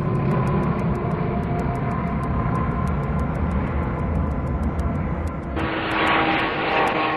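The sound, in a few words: propeller aircraft in flight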